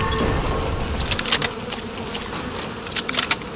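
Swarming insects buzzing in the video game Fortnite, a dense continuous drone with scattered sharper bursts over noisy game sound, steady and fairly loud throughout.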